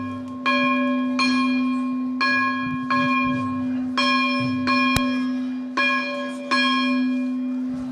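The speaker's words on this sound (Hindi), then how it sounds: "यहाँ पे घंटा लगा है जो हमेशा बजता है" Noon bell at the Dewa Sharif shrine, a big metal bell struck repeatedly in an even rhythm, about eight loud clanging strokes, each ringing on with a steady hum beneath the next, clear and close with no talk.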